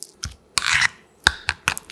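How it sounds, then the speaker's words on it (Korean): Cooked garlic is mashed into a doenjang sauce thinned with chicken stock, giving close, wet squelching and scraping strokes in short irregular bursts. "여기에 익은 마늘 3개, 농도를 맞춰주는 닭육수 4스푼 넣고 마늘을 곱게 으깨주면서"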